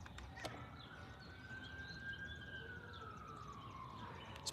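A police car siren wails in the distance in Ashland, Virginia, a long rising and falling tone over quiet background noise, with a sharp knock at the very end.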